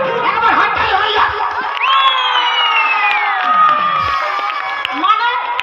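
A crowd cheers loudly, with excited shouts and whoops from many voices rising and falling over several seconds; any clapping is faint under the cheering.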